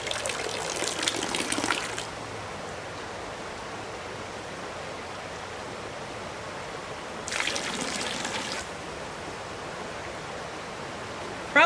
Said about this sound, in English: I'm going to dump water until I can just see that black dot